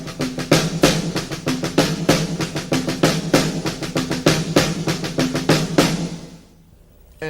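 Snare drum plays a rapid accent pattern with doubled notes, a dense rolling stream of crisp hits with louder accents, close and loud, stopping near six seconds into a short decay.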